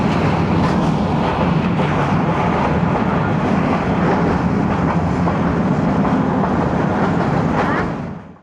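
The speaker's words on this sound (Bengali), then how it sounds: "রাতের অন্ধকার ভেদ করে কিন্তু ট্রেন ছুটে চলছে" Dhaka Mail passenger train running at night on the Chattogram–Dhaka line, a loud, steady rumble of wheels on rails with faint clickety-clack, continuous and close throughout before fading at the very end.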